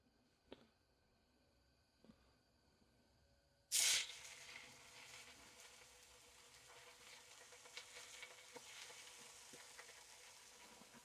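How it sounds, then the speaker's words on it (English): Bacon frying in a hot pan for a bacon, egg and cheese sandwich: a loud burst as the strips hit the pan, then a steady close crackling sizzle with small pops, no voices. "Once that reaches temperature, I will get the bacon in there."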